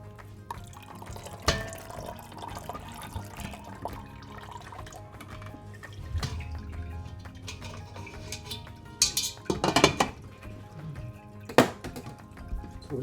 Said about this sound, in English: So we'll just set that up there and let it drain out.